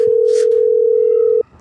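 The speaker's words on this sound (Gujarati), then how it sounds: "તમે જલ્દી ડોક્ટરને ફોન કરો." A telephone dial tone hums as a call to a doctor is placed: one loud, steady pure tone holding for over a second, then cutting off abruptly into quiet.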